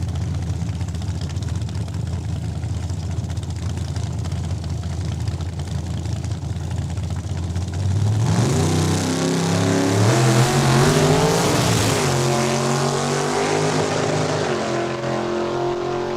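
A 1967 Camaro drag racing at Saskatchewan International Raceway: steady background rumble, then at about eight seconds a loud, close engine roar bursts in and climbs through rising revs and gear changes, staying strong to the end.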